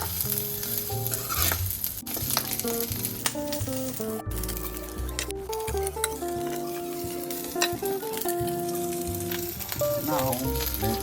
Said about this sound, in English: I've added the fats first to give some oil